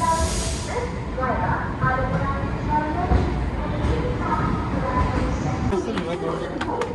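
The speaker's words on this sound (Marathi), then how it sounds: "आता आम्ही पोहोचलेलो आहे तिरुवनंतपुरम सेंट्रल या स्टेशनवर" Thiruvananthapuram Central railway station in Kerala, with a steady rumble and hiss of a train and a loud busy platform around it, while people talk over the noise throughout.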